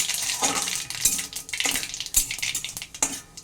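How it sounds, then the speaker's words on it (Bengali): Black mustard seeds pop in hot oil as a spice tempering, irregular sharp crackles and spits coming in bursts with quieter gaps, close and moderately loud with faint utensil clinks. "দেখো সর্ষেটা আমার ফাটছে"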